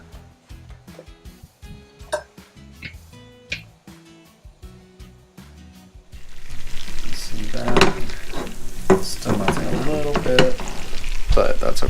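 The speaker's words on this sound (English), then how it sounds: "next we're going to melt 4 ounces or 8 tablespoons of butter in a pan or in your big stock pot." Butter melting in a big stock pot, with quiet scattered clinks at first, then a loud steady sizzle that swells and keeps building toward the end.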